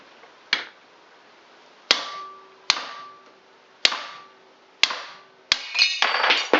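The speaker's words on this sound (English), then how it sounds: "I can use that hammer, can't I? So a bit of knocking." Several sharp metal hammer blows knock a bearing out of a Yanmar 2GM18 raw water pump, ringing out at uneven intervals, each leaving a brief clang, ending in a quick cluster of knocks and a rattle.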